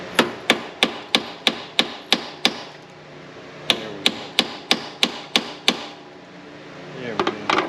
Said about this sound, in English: Sometimes just smacking it with a hammer, getting that bit in there helps.